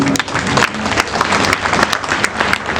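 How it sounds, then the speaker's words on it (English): Audience applause at a university graduation ceremony, dense crowd clapping with sharp individual claps standing out, loud and sustained throughout, no talk over it. "Please let's clap for him."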